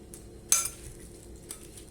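Knife cutting fresh sorrel leaves on a board for a salad, a single sharp chop midway with a fainter tap after and another light cut near the end, close and quiet with no voices.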